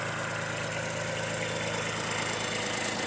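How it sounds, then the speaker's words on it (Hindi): A 2018 motor tractor idles at a sugarcane field with a steady, even engine rumble and a low drone. It runs continuously at close range, with no talking over it. "ये देखो जी एक मोटर ट्रैक्टर है इनका।"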